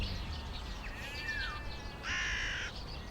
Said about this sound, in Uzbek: Qarg'alarni aytaman.